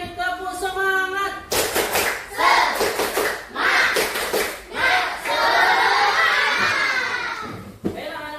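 A school class of children claps a fast rhythmic spirit-clapping pattern in bursts, mixed with shouting and cheering, while a teacher's voice leads at the start.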